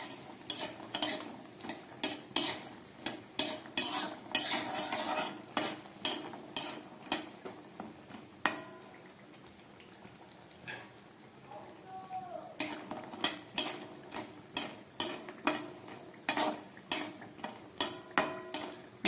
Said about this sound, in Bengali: আস্তে আস্তে বড়িটাকে খুব সুন্দরভাবে ভেজে নেব